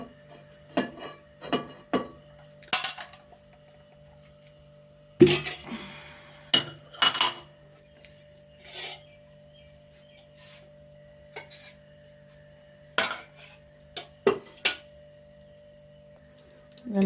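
A cooking pot set on a gas stove and handled in a home kitchen: a series of separate metallic clinks and clunks, some sharp and close, spread across a quiet background with a faint steady hum.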